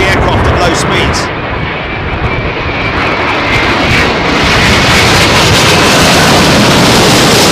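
A jet airliner arrives low overhead onto runway 27L at a very windy London Heathrow Airport, a loud rushing roar that swells and stays close, with someone talking over it.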